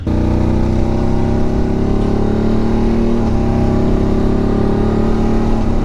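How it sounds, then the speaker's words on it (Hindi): A motorcycle rides along mountain roads in Ladakh, its engine droning loud and steady close by, with no pauses and no voices. "इन रोड्स पे बाइक चलाने का अपना ही मजा है।"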